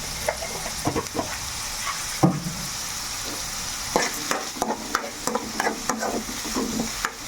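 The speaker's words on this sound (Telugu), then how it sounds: "ఉల్లిపాయలు అయితే మనకి బ్రౌన్ కలర్లో బాగా వేగాలండి" Onions with rock salt fry in a pan as a spatula stirs and scrapes them in quick irregular strokes over a continuous loud, close sizzle, with no one talking.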